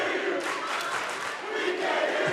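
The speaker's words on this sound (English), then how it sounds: "the Free State fans are chanting, we can't hear you" Crowd of high school volleyball fans chanting in a gym, a loud dense roar of many voices with rhythmic swells, continuous and reverberant.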